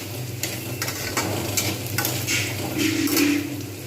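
Onions and potatoes fry in a pan for papaya curry, a close, continuous sizzle broken by repeated scraping stirs of a spatula against the metal.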